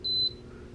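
An Imone foot spa gives a single short, sharp electronic beep as its temperature is raised by remote control, faint and close over a quiet background hum.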